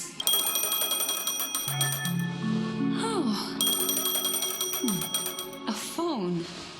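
A phone rings in Honkai Star Rail, a bright repeating electronic ringtone with chiming tones and rising melodic notes, while a voice briefly speaks over it.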